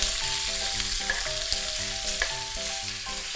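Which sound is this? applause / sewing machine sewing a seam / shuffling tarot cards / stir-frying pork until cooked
stir-frying pork until cooked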